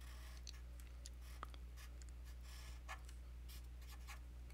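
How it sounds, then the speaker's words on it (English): Faint scratchy strokes of a pen writing out a matrix, with soft irregular scribbles and taps over a steady low hum, no voices. "Alright, so I'll write that here."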